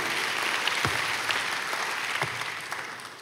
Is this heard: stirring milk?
no